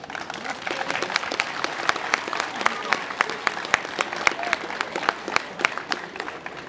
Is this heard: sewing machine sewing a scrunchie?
no